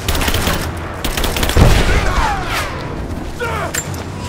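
Gunfire in the action game Rise of the Tomb Raider, a loud burst of rapid rifle shots with a heavy boom and crash around the middle, followed by whizzing ricochets and scattered shots, with shouted voices mixed in.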